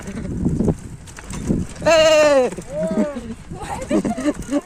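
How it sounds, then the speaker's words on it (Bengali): Goats and young goat kids bleat loudly and close by in a rural paddy-field setting, a long wavering cry followed by a shorter one, with people talking around them. "ছাগল ছাগল ছানা"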